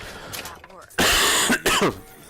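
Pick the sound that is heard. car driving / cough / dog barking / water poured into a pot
cough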